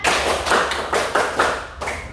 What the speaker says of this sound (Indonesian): coba tepuk 1, tepuk 2, tepuk 3, tepuk 4